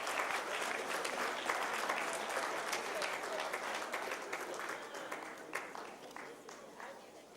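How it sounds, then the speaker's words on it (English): Sustained audience applause at an evening awards ceremony for long-standing members, a dense wash of clapping from a large crowd that stays steady and slowly thins toward the end. "And please give a round of applause to these long-standing members."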